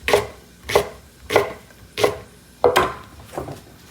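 Knife chopping fennel bulb on a cutting board for a duck and cauliflower casserole, six crisp, evenly spaced chops, close and clear with no talk.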